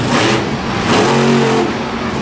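A monster truck at a Monster Jam arena event in Anaheim, its engine revving at full throttle in a loud, sustained roar with rising harmonic tones near the middle, close and dominant throughout.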